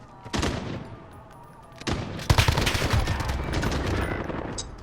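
Bursts of gunfire from an online tournament match of the video game Call of Duty: Modern Warfare, dense rapid shots after brief opening volleys, continuous and fairly loud with no talk over it.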